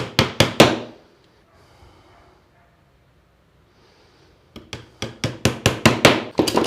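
A hammer drives nails into a wooden French-style bracket, a rapid burst of sharp, loud close blows, a quiet pause with faint shuffling, then another longer run of strikes.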